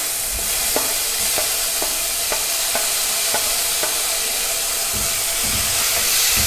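Tomatoes fry in a pan with onion and curry leaves under a loud, constant sizzling hiss, punctuated by a regular series of light clicks from a spoon stirring.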